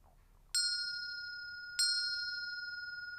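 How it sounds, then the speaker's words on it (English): A meditation bell rings twice, each a bright clear ding struck near and left to ring out with a long, slowly fading shimmer, the second strike landing about a second after the first. "The bell rings, the eyes open."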